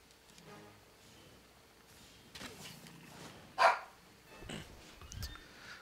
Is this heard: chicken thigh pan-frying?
no